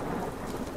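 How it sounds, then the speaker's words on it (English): Video game rain pours steadily with a low rumble of thunder beneath, a brief, dense, loud wash of storm noise with no voices. "Rain accompanies the rookie everywhere they go"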